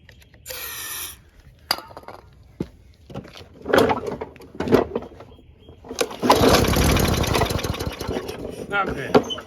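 An old lawn mower engine is pull-started a few times with brief sputters, then catches and runs loudly for several seconds nearby.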